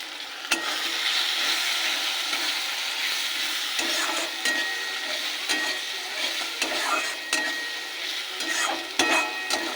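Ground turmeric, roasted cumin and chilli powder fry in a pan for stuffed pointed gourd, a steady close sizzle broken by repeated stirring scrapes and clicks, with no talking.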